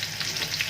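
Green chilies fry in hot oil with cumin, a steady close sizzle and crackle throughout a very short moment, with no talking.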